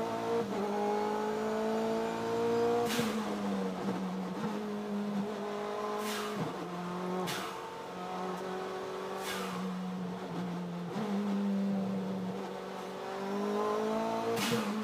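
Saleen Cup turbo race car lapping at speed during a race at Portland, a steady loud engine drone with repeated upshifts and rising revs over about fifteen seconds, no talk.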